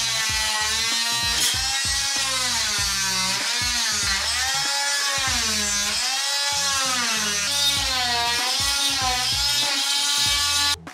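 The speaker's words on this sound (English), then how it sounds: "I got this Dremel Multimax tool. I'm gonna try to break the bond here of that silicone" Dremel Multimax oscillating tool cutting through silicone caulk stuck to a bathroom wall, a continuous high buzzing whine with wavering pitch as the blade loads and frees, close and loud throughout.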